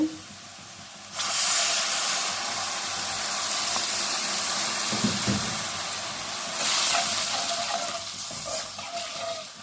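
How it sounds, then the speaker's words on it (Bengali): Water poured into a hot pan of fried onion sets off a loud, sustained hiss of steam and sputtering that swells, holds and then eases off, close by with no talk. "এখন এখানে আমি একটু পানি দিয়ে দিব।"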